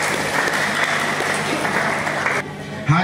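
An audience at an Islamic boarding school's anniversary education seminar in Serang gives loud, close, sustained applause that cuts off abruptly near the end, followed by a brief low thump.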